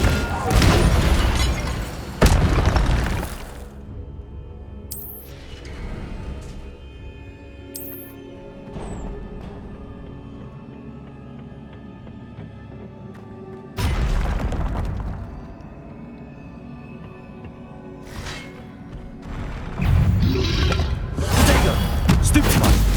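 Incendio fire spell cast in Hogwarts Legacy, loud whooshing bursts and booms that flare up several times over ambient game score with quieter stretches between.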